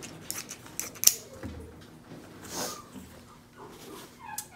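Scissors cut through a fabric bandana in a few quiet, sharp snips and crisp clicks spaced apart, with soft rustling of the cloth between them.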